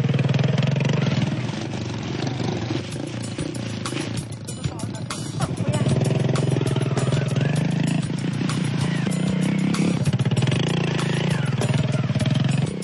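Motorcycle ride on a long rural trip, a steady mid-pitched engine drone that runs throughout with a brief dip partway through, under a narrator's voice.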